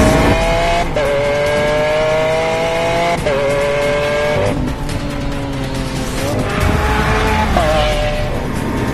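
A car driving fast on a winding road roars loudly and close, its engine pitch climbing and dropping through gear changes over steady road and wind noise, with no talking.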